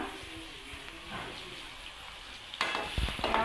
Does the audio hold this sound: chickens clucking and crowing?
no